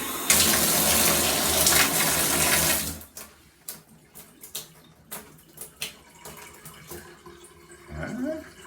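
Water gushes loudly from a shower tap for about three seconds, then cuts off, leaving quieter splashes and clinks before the flow briefly surges again at the end, after a shower cartridge replacement.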